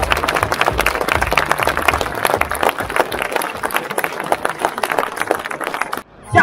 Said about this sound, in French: un maximum d'applaudissements.